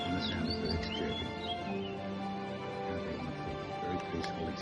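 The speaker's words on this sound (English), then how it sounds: "the sound of birds chirping" Birds chirp in a quiet jungle neighbourhood of Bangkok, Thailand, with a few thin, whistling calls early on, set against a steady low background rumble and no one talking.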